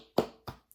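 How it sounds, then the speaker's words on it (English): A few sharp, close hand claps sound in quick succession, loud and short with gaps between, no talking. "I just want to give him a Frank Lampard a round of applause"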